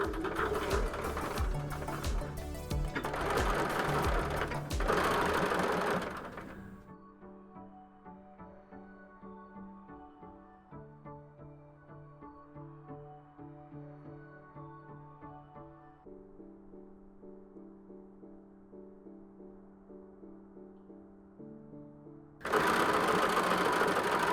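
A sewing machine stitches a fabric book cover, running steadily and rhythmically for a long stretch, close and moderately loud, with louder handling noise at the start and end.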